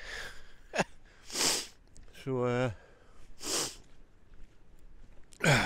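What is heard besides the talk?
person sniffing in the cold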